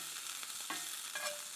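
Sofrito vegetables fry and get stirred in a pan, giving a steady soft sizzle with a few scraping stir strokes of a utensil close by.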